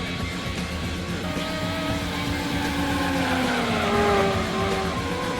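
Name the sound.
Renault Espace F1 car engine racing, Gran Turismo 2 video game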